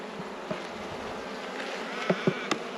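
Honey bees buzz in a steady, dense hum while a hive is opened for inspection, the colony in poor health with a floppy, unsupported brood frame. A few sharp knocks and clicks of frame handling cut through the drone.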